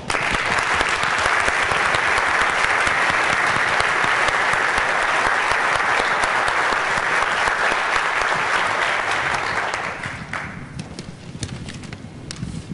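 An audience applauds to welcome Jay Forrester at a fireside chat. The clapping is steady and sustained from many hands for about ten seconds, then fades away into quiet room noise.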